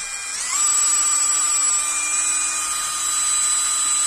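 An OSUKA cordless brushless drill motor runs at full speed, a steady high whine that spins up quickly and holds evenly for about four seconds, close and alone.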